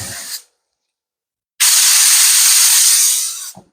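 Compressed air blasting grinding dust off a project in a yard, a short hiss at the start, a pause of silence, then one long loud steady blast lasting about two seconds before cutting off.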